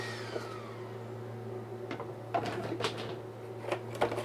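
A laser cutter works through the side parts of a craft paint rack, giving a steady mechanical hum with a falling whine early on, then scattered faint clicks and soft bursts of motor noise.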